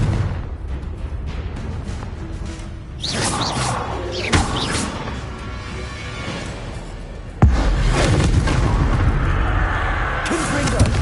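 Spell blasts from the Confringo fire spell in Hogwarts Legacy, several sharp whooshing booms and bursts over a rumbling game soundscape, with one loud, close impact near the end and voices calling out spells.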